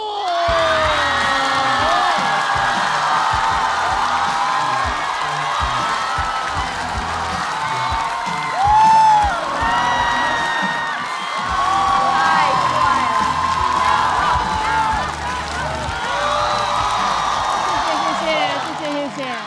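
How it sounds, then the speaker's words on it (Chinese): A stand-up comedy show audience cheers, whoops and applauds as a comedian takes the stage: a loud, sustained roar of crowd excitement with shouts and high-pitched yells rising throughout. "让我们掌声有请"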